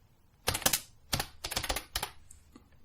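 Bursts of typing on a computer keyboard while code is entered, quick clusters of key clicks in four or five short runs with brief pauses, close and moderately loud, no talking.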